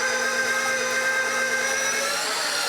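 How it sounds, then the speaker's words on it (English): A KitchenAid stand mixer with a meat tenderizer attachment runs steadily as pieces of round steak pass through, giving a loud, continuous motor whine with a mechanical hum and no talking. "run these pieces of round steak through the meat tenderizer attachment on the Kitchenaid"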